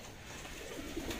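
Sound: pigeons cooing

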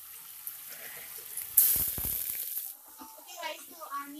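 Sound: vegetables sizzling in a pan for fried rice

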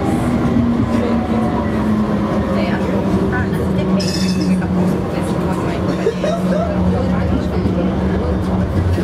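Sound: tram running on rails

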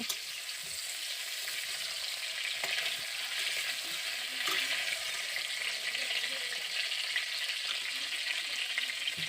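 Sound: pointed gourds (potol) frying in hot mustard oil

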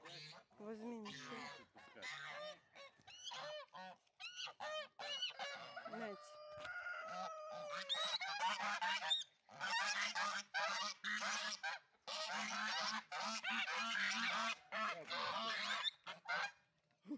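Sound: geese honking

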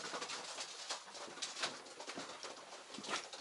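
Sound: pigeons cooing in a loft

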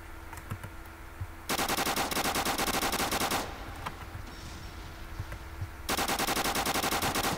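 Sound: gunfire in video game Roblox

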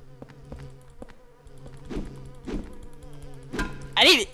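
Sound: buzzing of fly-like creatures in Silent Hill 4 video game

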